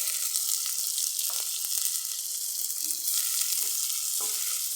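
Three large sliced onions and green chilies fry in a pan and are stirred. There is a steady, loud sizzle with scraping stirs throughout and no talking.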